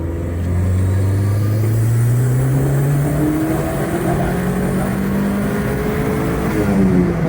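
A Vauxhall Nova with a C20LET engine pulls hard in third gear, its loud engine note climbing steadily in pitch with a brief dip partway through, heard close and alone.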